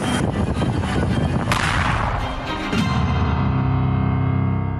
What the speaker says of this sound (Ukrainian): Вона автоматична ця гармата, тобто заряджання та стрільба автоматична.